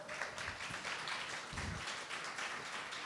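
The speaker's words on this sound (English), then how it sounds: "Give her a round of applause" Faint, distant applause from an audience at a social justice summit closing reception, a soft steady patter of clapping with a few closer taps.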